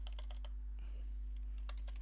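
Typing on a computer keyboard beside a steady electrical hum, with quick clusters of light key clicks at the start and scattered taps later, faint and without talk.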